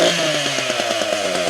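Chainsaw running just after being started, a loud close buzzing two-stroke engine with rapid regular firing pulses and a slight rise in pitch over a second and a half.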